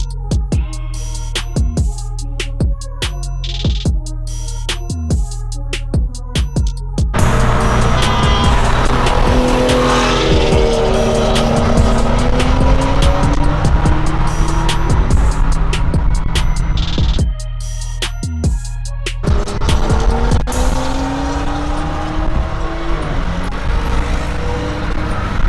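A turbocharged BMW engine roars at high load on a dynamometer, held in sixth gear, with a loud sustained wail rising in pitch between choppier bursts at the start and near the end.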